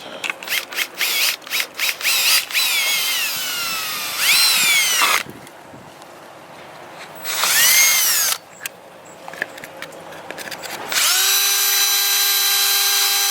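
Power drill working during an F30 headlight HID retrofit, delivering short bursts and longer whining runs that rise and fall in pitch as the motor spins up and slows, close and loud with brief pauses.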